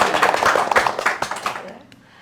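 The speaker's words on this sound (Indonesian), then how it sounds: "Ya, tepuk tangan." Brief burst of hand clapping welcoming a guest on a Sundanese-language podcast, a quick flurry of close claps that tapers off and fades out within about two seconds.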